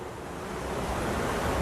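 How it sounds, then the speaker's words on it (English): A water feature beside a mountain rushes constantly in the background of an outdoor painting spot, a dense, steady whoosh of flowing water that holds even and moderately loud. "Enjoy the sound of the water rushing behind you."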